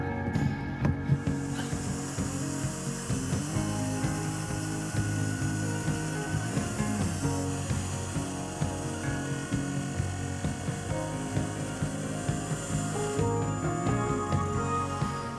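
A power tool cuts a 3/4 inch hole in a wooden sailboat bulkhead, giving a continuous close grinding whine with a steady rough texture and small ripples throughout, no talk.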